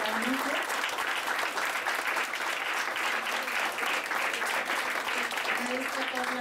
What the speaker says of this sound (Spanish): Vamos a despedir a nuestros invitados con un fuerte aplauso.